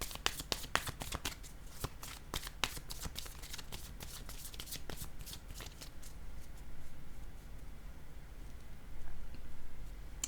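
Tarot cards are shuffled and handled in a rapid run of crisp riffling snaps, then settle into softer rustling and sliding as a card is laid down, quiet and close.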